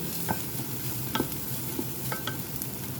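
Squid adobo with garlic and tomato is stirred in a pan, a few light spoon scrapes and clinks over a steady low sizzle, close and quiet, with no voices.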